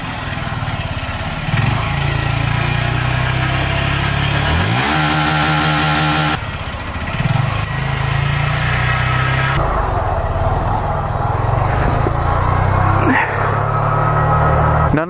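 Motorcycle engine running steadily through a clutch stall on an obstacle, a loud continuous motor drone with a brief dip in pitch midway and a few sharp knocks, no talking.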